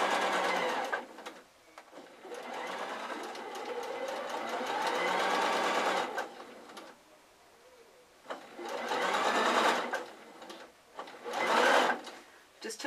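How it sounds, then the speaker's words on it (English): Domestic sewing machine running a straight stitch around the lining of a drawstring Christmas sack, a steady whirring hum in several long runs, stopping and starting, close by. "just pop a straight stitch, making sure my pom-poms are out of the way, and just sew that all the way around"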